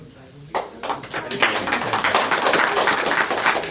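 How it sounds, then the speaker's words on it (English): An audience at a cultural center claps for children after a recitation. The applause starts suddenly and quickly builds into dense, continuous clapping with some voices mixed in. "big round of applause to kids"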